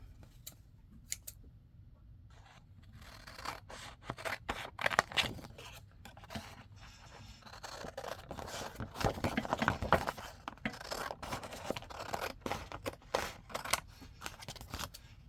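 Scissors trim paper for junk journal library pockets, a quick run of crisp, close snips that speeds up into dense cutting, with no talking.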